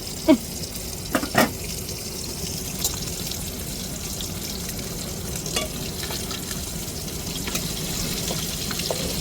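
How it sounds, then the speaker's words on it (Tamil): Fish frying in hot oil gives off a continuous, dense crackling sizzle, close and fairly loud, with occasional sharper pops and spatters over the steady hiss. "அதுக்குள்ளே நம்ம மீனை பொரித்து எடுத்துருவோம்."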